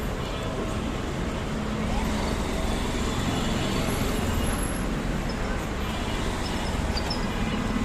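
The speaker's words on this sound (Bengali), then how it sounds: "কি পরিমাণ জ্যাম, আর রাস্তায় যে এত পরিমাণ গাড়ি ঘোড়া" Busy road traffic in a jam, with a steady dense rumble of engines from buses, cars and trucks and occasional air-brake hiss, continuous and fairly loud throughout.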